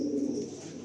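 A pair of tournament-quality racing pigeons, a cock and a hen, coo in a low, steady, rolling murmur that carries close and continuous for a brief moment.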